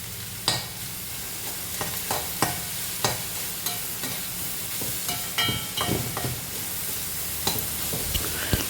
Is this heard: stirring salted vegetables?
yes